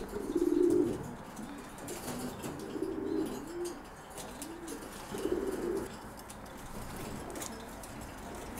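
Domestic pigeons, a male and a young female in a breeding pen, coo in several rounded, repeated phrases at close range, with soft pauses between calls and no talking.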